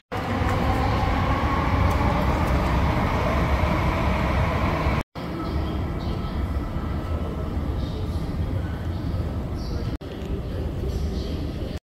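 A metro train rumbles steadily with loud low-end noise, running up from an underground section, briefly cutting out twice, as if passing through sections of track.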